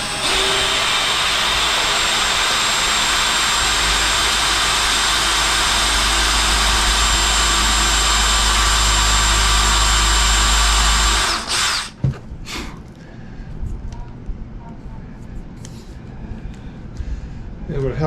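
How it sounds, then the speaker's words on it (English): A power drill bores a hole through a model F6F Hellcat wing for mounting the spar to the center section, whining loudly and steadily for about eleven seconds before stopping abruptly, followed by faint handling noises and talk. "So we'll drill the hole"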